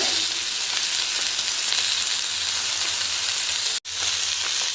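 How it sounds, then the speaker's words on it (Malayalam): A loud, dense, steady sizzle comes from fish frying in a pan with coconut milk coating, after being turned over, close and continuous with one brief dropout, no speech. "ഓക്കെ ഞാൻ മീൻ തിരിച്ചിട്ടിട്ടുണ്ട്"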